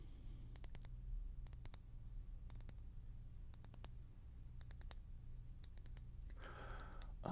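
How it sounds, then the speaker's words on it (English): Faint keyboard clicks come in small scattered bursts over a low steady hum, with a soft rustle near the end. "So you want louder keyboard noises than what comes through on the headset?"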